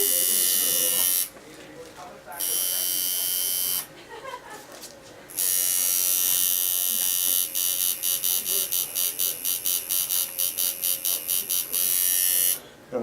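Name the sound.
tattoo machine buzzing while shading black and gray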